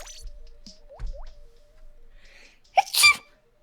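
A single sharp sneeze from a commentator during a Splatoon 2 tournament broadcast, sudden and close after quiet background game sounds and a few soft electronic blips.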